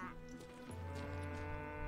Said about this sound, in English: Hello, cow.